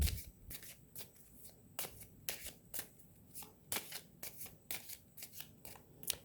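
Tarot cards being shuffled by hand in a quick series of crisp riffling bursts, each a sharp papery flutter, repeating steadily and close with no talking.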